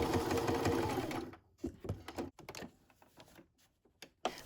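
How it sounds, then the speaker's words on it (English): A sewing machine runs in a steady fast stitching burst, then stops and gives a few short, uneven clicks and whirs, close and fairly quiet. "somebody who is already pretty versed in the basics of a sewing machine"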